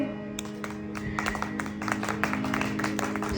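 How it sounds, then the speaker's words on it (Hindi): Audience clapping along to a Krishna bhajan, starting after a brief hush and settling into fairly regular rhythmic group claps over a sustained musical drone, moderately close. "ताली बजाइए"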